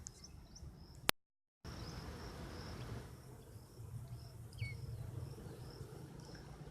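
Honeybees buzz steadily around hives, a low continuous hum with occasional higher whines of individual bees passing close, outdoors with no talking.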